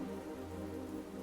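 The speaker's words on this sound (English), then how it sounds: "The rain continued to fall as it always had" Steady rain falling on a surface, a dense continuous patter at even loudness throughout, with no voices.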